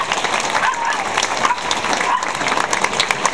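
Audience applause at a folk music festival, a lively patter of clapping with sharper individual claps standing out, moderately loud and sustained throughout.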